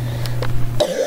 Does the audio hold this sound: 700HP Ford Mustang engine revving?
no